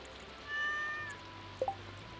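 A cat in a video game gives two quick short meows close together, standing out briefly over a soft steady game background with a faint tonal hum.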